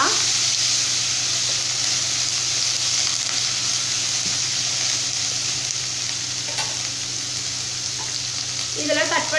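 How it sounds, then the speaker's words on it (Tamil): Ripe chopped tomatoes with spices sizzle and fry in hot oil for a drumstick masala curry, a steady close crackle with occasional spoon stirring scrapes, no talking. "ஒரு கனிஞ்ச பழம் தக்காளி பழம் வந்து கட் பண்ணி ஆட் பண்ணிக்கிறேங்க. இப்போ இது எல்லாமே சேர்த்துட்டு நல்லா வந்து நம்ம வதக்கி விட்டுக்கலாம்."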